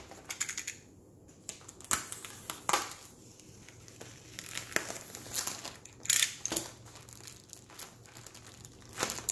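Crinkling and crushing of plastic wrap as a diamond painting kit package is opened, with scattered close, crisp rustles and sharp tearing bursts over a quiet background.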